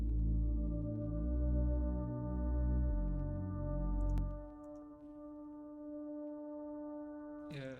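A synth pad holds one sustained note as a steady, even drone with a rhythmic low pulse underneath for the first half, then rings on thinner and alone until the end.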